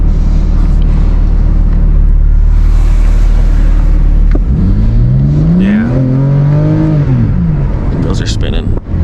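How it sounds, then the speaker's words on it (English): BMW G82 M4 launching with wheels spinning, a loud low engine rumble that drops and then climbs through a rising, falling rev sweep, heard from inside the car with talk over it. "anything below 5, it'll let you spin the wheels"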